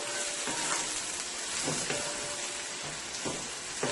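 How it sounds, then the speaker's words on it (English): Garlic sizzles steadily in olive oil in a pan, a close, continuous hissing fry with faint soft surges as it is stirred. "You're going to let that cook for about 2 minutes. You don't want the garlic to burn, you just want it to flavor the oil a little."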